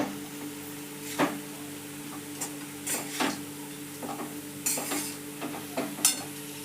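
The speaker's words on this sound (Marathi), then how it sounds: "चपातीचा चुरा घालून घ्यायचा सगळं मिक्स एकत्र जी जीव करून घ्यायचं" Crumbled leftover chapati stirred in a pan for upma, with a few scattered scrapes and soft taps at irregular intervals over a quiet, faint background hum; no voices.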